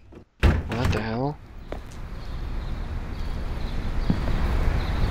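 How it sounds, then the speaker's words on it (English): A door shuts with a single loud thud in the Half-Life 2 mod Grey, followed by a steady low rumbling ambience. Just before the slam, a brief voice is heard. "Door closed."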